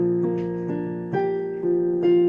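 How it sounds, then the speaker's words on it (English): Piano playing a song with the sustain pedal held down, so the chords ring into each other; five or so struck chords blend into a continuous, sustained wash at close range with no talking. "it sounds much better if you hold the pedal down"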